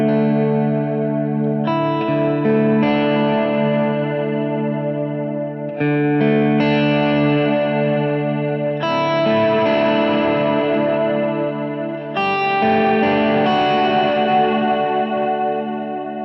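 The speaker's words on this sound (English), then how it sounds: "So activate the cloud reverb on the Strymon." An electric guitar runs through a Strymon pedal's cloud reverb setting, sustained chords swelling into a dense, shimmering wash of long reverb, loud and continuous, changing chords every few seconds with no talk.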